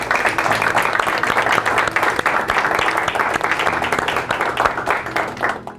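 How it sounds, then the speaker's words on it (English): Dense, sustained applause from an audience at The Venetian Las Vegas honoring police officers and EMTs, a loud continuous wash of many hands clapping that tapers slightly at the end. "I think you all deserve a round of applause for the work that you guys do."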